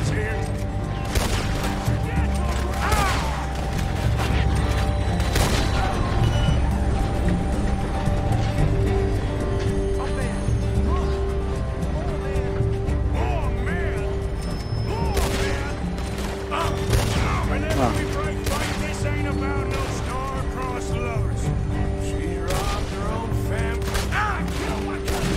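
Gunfire rings out in Red Dead Redemption 2 in repeated sharp shots and bursts over a sustained combat soundscape, with a voice talking over it at times.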